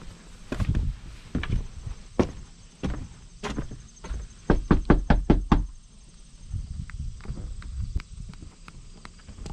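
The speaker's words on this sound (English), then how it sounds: "We'll knock on this door." Someone knocks on the door of a rural house trailer, several sharp raps followed by a quick run of repeated knocks, close and loud with scuffing footsteps between, and no voices.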